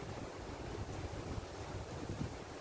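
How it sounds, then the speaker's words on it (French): Wind blowing outdoors in a peaceful natural setting, a soft continuous rush with low rumbling buffets against the microphone, faint and steady with no one talking. "Wow, écoutez un peu le vent là."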